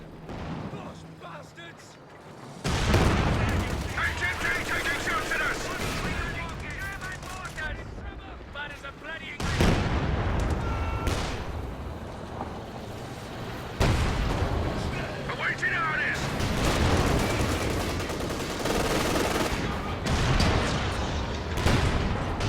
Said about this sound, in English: So we're trading a few shots here once again